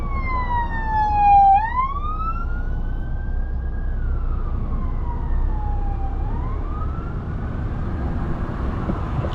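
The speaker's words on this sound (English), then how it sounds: "Got a police car coming up." A police car siren on a motorway wails past nearby in rising and falling sweeps, loud over the steady road rumble of stop-start traffic.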